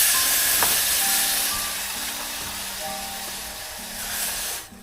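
Clams dropped into a thick spiced gravy with turmeric on a home stove hiss and sizzle in a loud, steady steamy rush that fades slightly, then swells again before cutting off.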